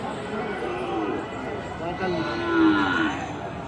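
At a cattle market where bulls are sold, a cow gives a low, drawn-out moo near the end, rising out of steady crowd chatter and nearby talk.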